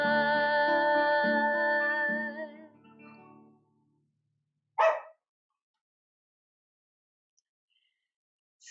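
A small dog gives a long, wavering whine at close range, then falls quiet before letting out one short, sharp bark, with near silence afterward.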